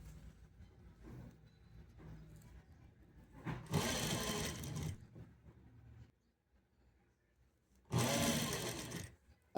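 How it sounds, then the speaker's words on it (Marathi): A sewing machine stitches piping onto a blouse in two loud, fast whirring bursts, each a few seconds long, with quiet fabric handling between them. "वरून ही पायपिंगची पट्टी घ्यायची आणि शिलाई मारत जायचे सेंटरला"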